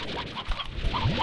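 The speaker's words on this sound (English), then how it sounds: "A lot of briar hens, surprisingly." Briar hens from the game Slime Rancher give short, close clucks and honk-like squawks in quick succession, with no talking over them.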